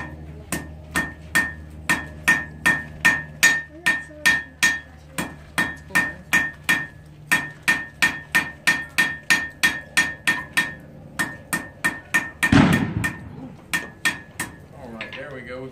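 Steady metal hammer blows flatten a length of wire into a chain link, roughly thirty sharp, ringing strikes in an even rhythm, close and loud, with a brief louder clatter near the end.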